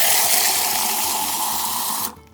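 Water fizzing and hissing steadily as it is carbonated with a soda maker canister, a continuous loud rush with faint rhythmic pulsing underneath, cutting off abruptly near the end.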